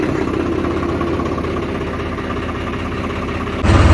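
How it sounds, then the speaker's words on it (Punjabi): A tractor engine idles close by with a steady, heavy low-pitched chugging rumble and constant vibration, growing slightly louder and rougher near the end. "ਲਿਆਂਦਾ ਹੁਣ ਟਰੈਕਟਰ ਹੁਣ ਲੈ ਕੇ ਜਾਵਾਂਗੇ"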